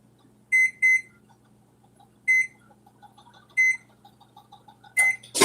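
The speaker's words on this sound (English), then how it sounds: "So, first thing you do is fire up the oven." A micro convection oven being switched on gives several loud, isolated beeps at irregular spacing over a quiet room hum, ending in a burst of rapid tones.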